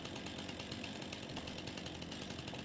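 A chainsaw in the video game Farming Simulator 25 cuts deadwood, a faint, steady buzzing whine that holds unbroken, no talk over it.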